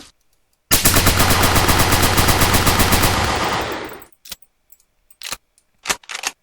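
Video game guns fire in one long rapid automatic burst lasting over three seconds, loud and close, followed by a few sharp isolated clicks and clatters.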